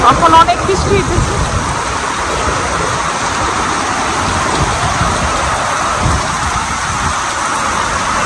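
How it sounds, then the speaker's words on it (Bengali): Heavy rain pours down in a loud, continuous, even hiss that carries steadily from start to finish. "এখন অনেক বৃষ্টি হইতেছে।"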